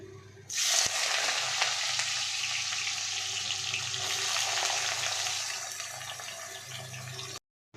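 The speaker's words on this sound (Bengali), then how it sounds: "এখানে আলু ভাজা বসিয়ে দিয়েছি, দেখতেই পাচ্ছ" Sliced potatoes sizzle steadily in hot oil in a home kitchen, a loud, continuous crackling hiss that starts abruptly and holds for several seconds before cutting off.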